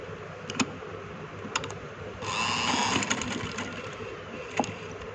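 A sewing machine stitching a popet-style design onto a garment hem, starting up partway through as a steady whirring burst over a low background hum, with scattered light clicks and taps around it.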